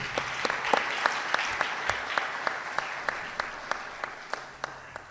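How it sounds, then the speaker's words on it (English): Steady applause from an audience, a dense wash of many hands clapping with some sharper individual claps standing out, continuing evenly throughout. "Please give the students a round of applause."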